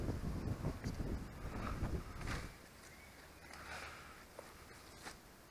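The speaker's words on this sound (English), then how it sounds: "I really hope the wind doesn't sort of take anything away from this" Wind buffets the microphone outdoors, with heavy low rumbling gusts for the first couple of seconds, then easing to a softer, steady rush.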